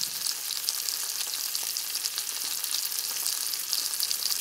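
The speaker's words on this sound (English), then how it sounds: "You need to pour a little bit of oil and a very hot pan and to fry" Sliced reindeer meat fries in a little oil in a very hot pan, giving a dense, steady crackling sizzle that stays close and even throughout with no talk.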